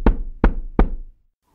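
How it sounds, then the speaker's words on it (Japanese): Three evenly spaced knocks on a wooden door, an ant's house in a snowy Aesop fable, sharp and close with short decays, alone with no voices. "やっとのことでアリの家を見つけてトントンとドアを叩きました。"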